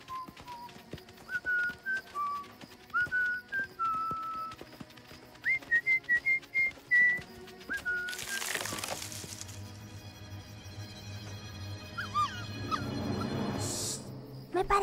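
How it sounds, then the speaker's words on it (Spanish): A series of short, melodic whistled notes rising and falling in little phrases in a children's cartoon, followed by rustling, thumps and a shrill burst of noise. "¡Ya no escucho el silbido!"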